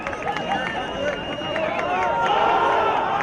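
Boston Whitecaps fans cheer at an ultimate frisbee game, a sustained mass of shouting and whooping that swells louder toward the end, with a commentator talking over it.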